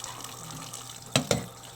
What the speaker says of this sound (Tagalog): patutulaan natin siya sa tubig para hindi siya maglagkit.